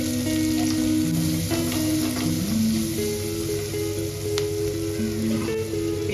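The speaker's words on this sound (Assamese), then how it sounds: "পিঁয়াজখিনি বেছি নাভাজোঁ," Onions frying in oil with cumin powder for an Indian fish curry, a continuous close sizzle and crackle with steady pops, accompanied by background music tones and no talking.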